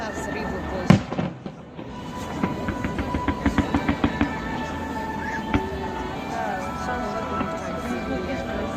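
A festive fireworks salute with a sharp bang near the start, then a quick run of about ten crackling bursts, and further pops scattered over a steady rumbling crowd-like background.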